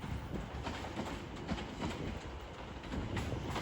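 A Class 710 electric train, unit 710 378, pulls into Watford Junction from London Euston, a faint steady rumble with soft rail clatter and distant birds in the station.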